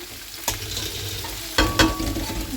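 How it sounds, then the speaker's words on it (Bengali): Red capsicum and potato fry in hot oil, a steady close sizzle with two sharp bursts as pieces hit the pan and get stirred. "তেলটা আমার গরম হয়ে গেছে আর এইদিকে দিয়ে দেবো ক্যাপসিকাম আলুটা একটু ভেজে নেব"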